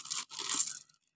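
Coins spill and clatter in a short metallic jingle, a dense run of small clinks lasting under a second before stopping, close and fairly quiet, with no talking.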